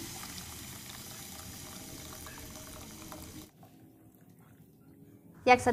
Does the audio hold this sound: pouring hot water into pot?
yes